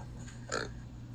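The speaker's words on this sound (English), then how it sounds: "The burp" A single short, low burp rises faintly over a steady background hum at a tabletop gaming session.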